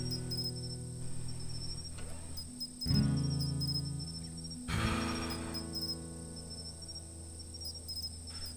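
Crickets chirping steadily in tall grass outside a telephone exchange, a continuous high, even trill that runs throughout, with a couple of brief low rumbles underneath.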